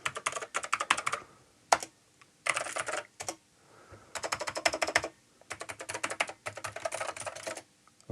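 Typing on a new mechanical keyboard for an Amiga 1200: several bursts of rapid, crisp key clicks, close and clear, separated by short pauses, with no talking.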